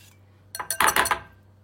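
Chocolate pastry cream being transferred into a bowl, heard as a short burst of clinks and scrapes of a utensil against the bowl, close and fairly loud, with no talking.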